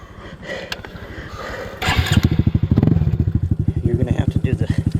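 A Honda CT125 motorcycle stuck in mud bog revs its engine, rising from a lower rumble into a loud, rapidly pulsing throttle run with clattering mechanical noise; voices talk under it.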